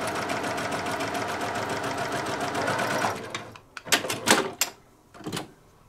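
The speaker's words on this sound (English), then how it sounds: "I'm going to sew exactly on the line." Fast, even stitching from a sewing machine sews quilt pieces along a diagonal line for about three seconds, then stops; several sharp clicks and taps of handling follow, all fairly quiet.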